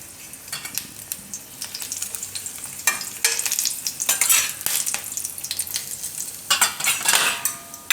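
Red chillies fry in hot oil for a Gujarati besan capsicum shaak, giving a crackling sizzle with intermittent scrapes and clinks of a stirring utensil against the pan. No one speaks.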